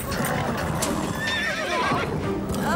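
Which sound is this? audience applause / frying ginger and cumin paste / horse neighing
horse neighing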